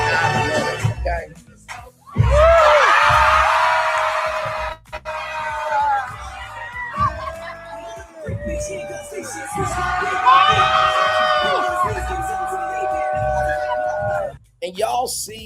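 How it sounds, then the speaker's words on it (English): A concert crowd cheers, screams and whoops for the performer in loud swelling bursts, with short lulls between waves of shouting. "y'all see how the crowd is going for her so hard"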